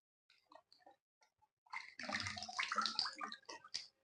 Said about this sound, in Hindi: अभी हम पानी में डिप करेंगे एक बार इसको।